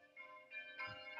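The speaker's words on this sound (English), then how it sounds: "in the background, you hear the bells of Teze, which are calling us to our evening prayer" Church bells ringing from a distance to call a Franciscan community to evening prayer, a steady chime of overlapping tones that swells a little louder toward the end, heard alone without speech.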